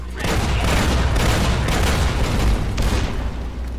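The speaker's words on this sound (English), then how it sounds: "With the M235 missile launcher, we can engage grenades" Rapid grenade fire from an M235 missile launcher in the video game Fallout: New Vegas, a dense loud rumbling barrage of booming blasts running continuously with heavy low-end weight.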